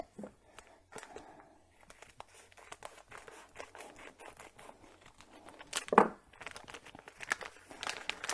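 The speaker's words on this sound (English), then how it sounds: "We have some leaves here that have been salted, and I'm going to cut them open." Salted leaves for mochi being cut open with scissors, close-up soft crinkling and crisp snips in an irregular rhythm, with one louder crunchy snip, quiet throughout with no talking.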